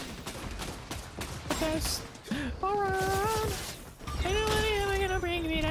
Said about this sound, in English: Is that a shotgun? Whatever that guy's using, I don't know. It's like a marksman rifle, I think.